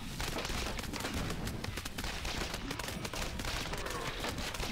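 Two guns fire at zombies in Earn to Die Rogue, a dense, continuous stream of rapid shots that runs unbroken from start to finish at a fairly low, even level.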